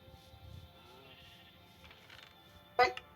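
A single short video game sheep bleat (Sky block) rings out near the end over quiet background murmur and faint voices.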